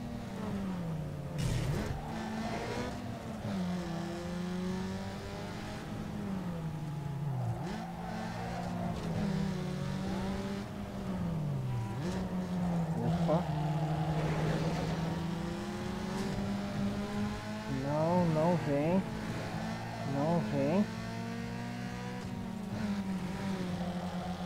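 Race cars in Need For Speed Underground 2 roar steadily throughout, engines climbing and dropping through gear shifts with repeated revving and occasional tire squeal, loud and continuous with no talk.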